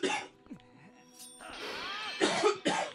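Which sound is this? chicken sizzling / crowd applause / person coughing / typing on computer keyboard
person coughing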